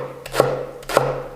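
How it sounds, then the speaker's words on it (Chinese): Two crisp knife chops through scallion sections on a cutting board, spaced about half a second apart, close and distinct over a faint steady hum. "切点葱段、"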